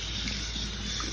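Hot water poured and splashed at home for soaking dreadlocks, a continuous close rushing, splashing flow like running tap water, steady and moderately loud with no talk.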